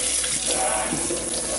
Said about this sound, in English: hopefully you have a nozzle where you can spray water